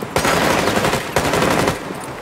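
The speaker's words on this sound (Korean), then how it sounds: "나머지 총소리 좀 내줘봐" Loud automatic gunfire in Rainbow Six Siege comes in two rapid bursts of rattling shots, separated by a short pause.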